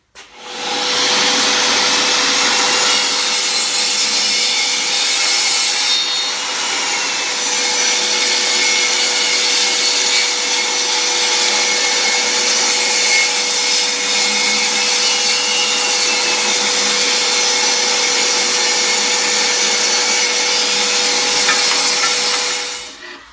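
A table saw fitted with an extension wing rips through wood in one continuous, loud, high-pitched whine that holds steady for over twenty seconds before cutting off.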